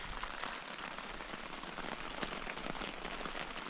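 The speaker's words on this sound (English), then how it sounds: "Rain here, rain there." Light rain patters steadily on a camping shelter in the Boundary Waters wilderness, a soft, continuous hiss of fine drops close by with occasional slightly louder taps and no talking.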